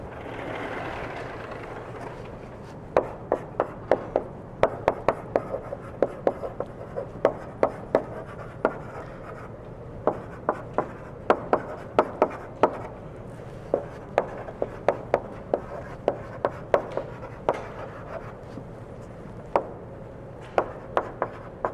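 Pen or chalk writing notes by hand during a physics lecture on moments of inertia, a long run of quick, sharp scratching strokes and taps in irregular bursts against a quiet room hum, fairly close and moderately loud.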